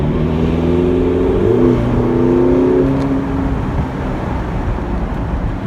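A Ferrari California T engine revs up in a loud burst of acceleration. The note climbs in pitch over a few seconds, then settles into a steady drone. Nobody speaks.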